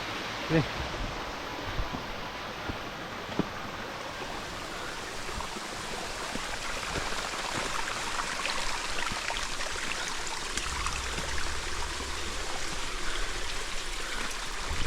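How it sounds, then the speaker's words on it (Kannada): Mountain stream rushing over rocks into a small waterfall on the Kumara Parvatha trekking trail, a continuous, fairly close wash of flowing water with no break over fifteen seconds. "mini falls"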